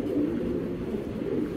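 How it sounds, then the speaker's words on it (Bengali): A male Afghan grizzle pigeon imported from the UK coos in a low, rolling, continuous murmur, close and moderately quiet. "বিদেশি নর, আফসান গ্রিজেল, ইউএসের একটা কবুতর"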